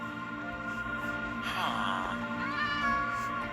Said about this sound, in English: Apparently we got domesticated cats